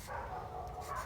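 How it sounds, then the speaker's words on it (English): Neighbours' dogs bark in the distance, a brief muffled bark or two sounding faintly from next door. "Sorry for the barking."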